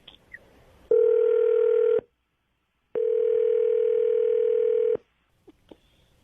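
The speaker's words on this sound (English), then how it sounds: "We're going to dial Adam up" Two long, steady telephone dial tones, each about a second or more, separated by a short silence, with faint room noise around them and no talk.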